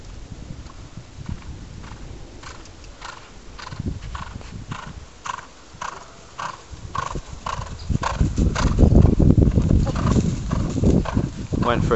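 A horse canters on a cross-country course, its hooves thudding in a steady rhythmic beat that grows louder and heavier toward the end as it nears, with a little voice and outdoor noise around it.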